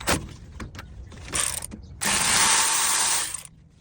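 A ratchet with a 13mm socket loosens rear brake caliper bolts on a 2015-2021 Ford Transit 350: close, crisp clicking in a short burst, then a longer steady run of ratcheting.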